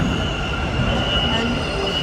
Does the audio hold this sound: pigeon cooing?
no